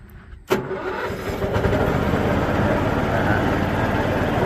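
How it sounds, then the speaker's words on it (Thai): Mitsubishi four-stroke petrol engine on a root-crop harvester for potatoes, taro and carrots, key-started: a sharp crank catch at once settles into a steady, loud, close running idle, with no talk over it. "เดี๋ยวลองสตาร์ทกุญแจดูดิ"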